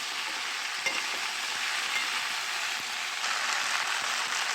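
Jujube pickle sizzles and crackles in a pan over a medium flame while being stirred, a steady dense fry with occasional sharper scrapes and pops, close up and with no talking.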